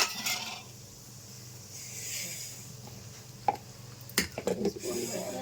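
Mustard and other tempering seeds with dried red chillies sizzle in hot groundnut oil, a steady soft frying hiss with a few sharp pops and crackles bursting near the end.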